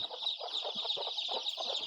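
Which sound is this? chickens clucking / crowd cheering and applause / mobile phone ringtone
chickens clucking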